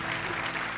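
A television comedy show's studio audience breaks into applause, a brief dense burst of clapping with faint musical tones underneath.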